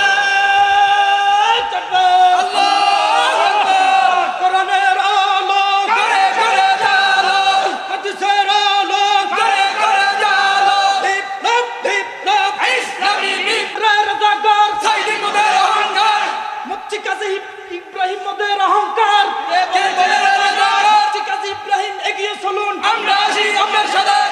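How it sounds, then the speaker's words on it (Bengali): A large crowd at an outdoor Islamic sermon gathering shouting takbir in unison, loud massed voices rising and falling in repeated waves that fill the whole stretch without pause. "একটু তাকবীর দাও ভাই, একটু তাকবীর দাও"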